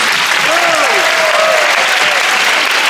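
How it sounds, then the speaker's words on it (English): Loud, steady applause fills an audience hall at a house film festival, dense clapping with a few voices and whoops rising faintly above it throughout. "Let's give Williams one last round of applause."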